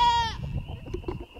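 A herd of miniature goats on a farm bleat loudly, one long wavering bleat up close followed by fainter scattered calls and rustling movement.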